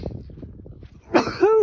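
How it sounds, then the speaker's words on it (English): A short, forceful sneeze from a person on a pig farm bursts out after a stretch of low muffled rustling, ending in a brief voiced tail. "I feel another sneeze coming on."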